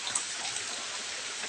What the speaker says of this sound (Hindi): तो अभी तो बहुत तेज़ की बारिश हो रही है।